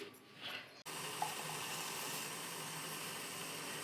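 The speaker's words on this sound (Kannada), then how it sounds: "ಅಕ್ಕಿ ಹಿಟ್ಟಿನ ಸರಿ ಮಾಡ್ಕೊಳ್ಳೋಕ್ಕೆ ನೀರು ಹಾಕ್ತಾಯಿದ್ದೀನಿ" Water pours steadily into rice flour for a North Karnataka vegetable thalipeeth, a continuous close splashing stream starting abruptly after a brief quieter moment.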